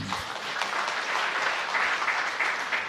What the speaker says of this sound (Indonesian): Tepuk tangan yang meriah bagi Tuhan.